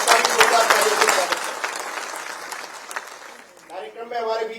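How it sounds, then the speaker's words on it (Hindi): A crowd at a Rajasthan farmers' event applauds agriculture minister Kirodi Lal Meena: vigorous, close clapping that is loudest at first and gradually dies away, after which a voice speaking over a loudspeaker takes over. "श्री किरोड़ीलाल जी मीणा साहब का भी जोरदार ताली"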